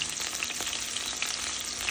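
Tuna steak and spinach cooking on a stovetop give off a brief, steady sizzle and frying crackle, close and fairly quiet, with no voices.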